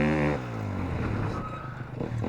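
A motorcycle at an off-road riding school holds a steady engine note, then breaks into a rough, scraping rush of sliding tyres as it skids under rear braking, close and fairly loud.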